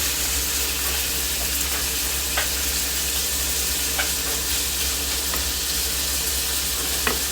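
Marinated beef for Filipino-style beef steak fries in a pan. A loud, steady sizzle holds throughout, with a few faint clinks on top and no speech.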